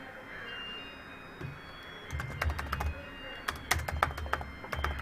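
Someone types code on a computer keyboard, with quick irregular clusters of close key clicks and clacks that start sparse and grow denser, with short pauses between bursts.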